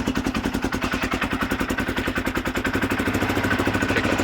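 Yamaha Banshee 472 ATV engine idling close by, a steady, rapid, even two-stroke putter that rises slightly in pace toward the end, with no talking.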